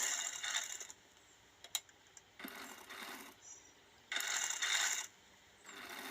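A sewing machine stitches piping onto a blouse, heard as bursts of fast mechanical whirring that start and stop between quieter pauses and a few small clicks, with no talking.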